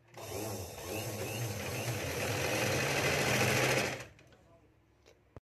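A sewing machine runs a continuous burst of fast stitching, sewing a finishing top-stitch along a sleeve lining. It is close and steady for about four seconds, then stops, followed by faint handling clicks.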